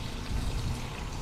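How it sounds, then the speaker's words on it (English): Rinse water pours steadily into the tub of an antique wringer washing machine at a remote Alaska home, a continuous close splashing stream with no voices. "And we're putting back in some rinse water."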